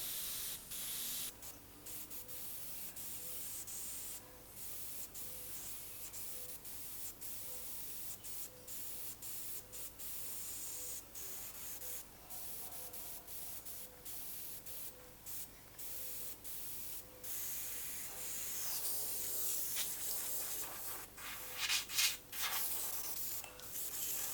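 An airbrush sprays paint steadily onto a carved totem pole, a continuous airy hiss with brief pauses between passes, close and moderately loud with no talking.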